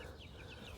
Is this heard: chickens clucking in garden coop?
yes